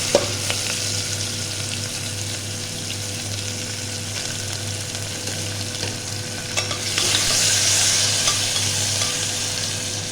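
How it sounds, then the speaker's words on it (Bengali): Chopped onions sizzle steadily in hot oil while being stirred with a spoon, a close continuous frying hiss that swells louder toward the end, with occasional scrapes and no talking. "এখানে পেঁয়াজটা একটু লালচে করে ভাজা হবে।"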